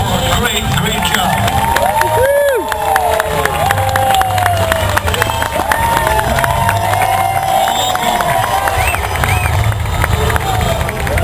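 A large fairground crowd cheers and claps at a wild west show at a county fair, loud and continuous, with whoops, shouts and excited voices rising over a steady wash of applause.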